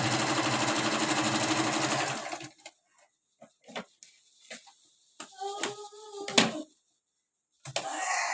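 A Singer sewing machine stitches a small zigzag, a loud steady mechanical whir for about two seconds, followed by quiet handling clicks, short taps and a few brief rattling bursts near the end.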